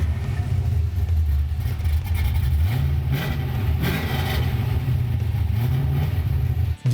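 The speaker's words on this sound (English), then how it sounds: "This car is extremely loud, yes." A very loud car engine starts and revs, giving a close, heavy rumble that swells and dips through several throttle blips before cutting off abruptly at the end.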